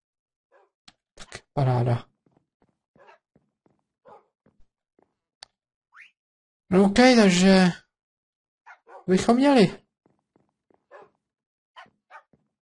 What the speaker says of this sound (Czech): Máme psy.